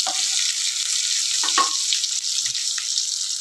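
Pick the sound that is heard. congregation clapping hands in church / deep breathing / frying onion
frying onion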